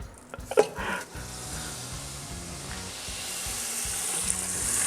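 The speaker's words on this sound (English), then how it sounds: "we're going to melt this butter" Butter melts in a hot skillet, giving a soft, steady sizzle and hiss after a brief clatter at the start, fairly quiet and close.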